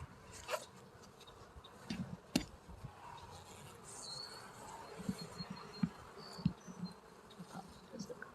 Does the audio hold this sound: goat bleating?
no